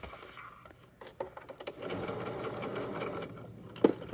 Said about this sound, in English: I'm going to sew that X. So I'll go through and do the X.